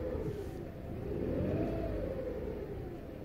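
A small passenger car's engine revs up under throttle, rising and falling in one smooth swell over a steady rumble, close and fairly loud.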